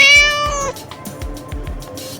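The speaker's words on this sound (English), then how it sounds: "Correct! It's a cat!" A cat meows once, a clear, loud, drawn-out call, followed by softer scattered sounds. It is one of the animal calls in an animal-sounds guessing quiz.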